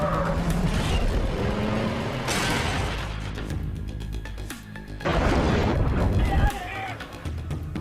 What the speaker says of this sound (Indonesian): Lalu dia membelokkan mobilnya dengan kecepatan yang tinggi dari jembatan mengarah ke sungai.